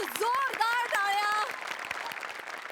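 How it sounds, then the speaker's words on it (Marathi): Loud applause from a studio audience at a Marathi comedy show, rising as a broad clatter after a sung or spoken voice with strong pitch fades out, then continuing steadily to the end. "जोरदार टाळ्या"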